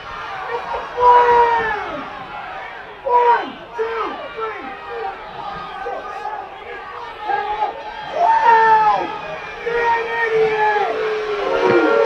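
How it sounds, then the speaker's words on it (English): A high school football crowd in the stands shouts and yells in agitated surges over a disputed no call at a playoff game, voices rising and falling in waves with scattered individual shouts. "The crowd is very riled up about a no call"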